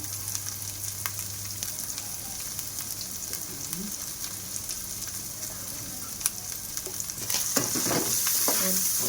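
Egg fried rice stir-fried in a pan with salt and turmeric, a steady close sizzle with scraping stirs throughout, growing louder toward the end, with no talking.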